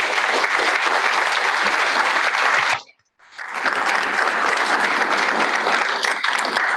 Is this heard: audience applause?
yes